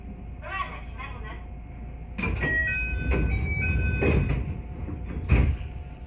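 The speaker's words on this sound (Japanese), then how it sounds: "ドアが閉まります。" A JR Nara Line train's doors slide shut at a station, with a chime and door thuds over steady cab and platform hum, following a platform announcement.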